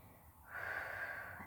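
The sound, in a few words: deep breath in during yoga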